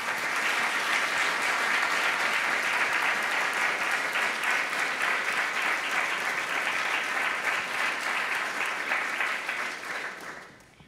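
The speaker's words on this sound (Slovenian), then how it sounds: "Iskrena hvala in en velik aplavz." A steady, dense wave of audience applause at a school ceremony fills the room for about ten seconds, even and sustained, then fades quickly at the close.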